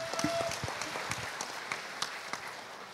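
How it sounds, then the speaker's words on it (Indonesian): A crowd at a Gerindra party dialogue event in Bekasi applauds, a steady spread of clapping at moderate distance with a few sharper individual claps standing out. "Tepuk tangan untuk Bapak Aris Marsdianto, Ketua Bapilu Partai Gerindra Provinsi Jawa Barat."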